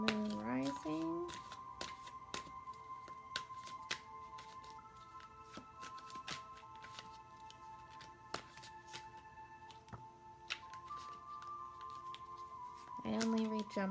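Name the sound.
shuffling tarot cards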